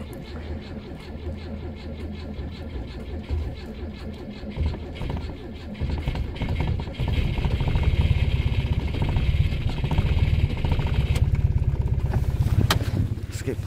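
A turbocharged Lada runs after a cold start, its engine chugging unevenly and roughening louder midway, close by, with some scraping noises and a brief sharp sound near the end.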